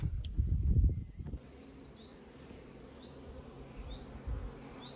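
Honey bees buzzing beside an apiary hives, a steady low drone with a heavier rumble at the start and faint bird calls over the hum; no talking.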